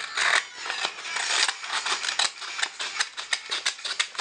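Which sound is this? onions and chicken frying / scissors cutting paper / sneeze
scissors cutting paper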